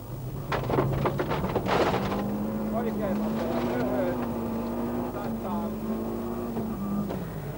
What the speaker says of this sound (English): Our camera on board the Mitsubishi Galant of Timo Salonen gives some idea.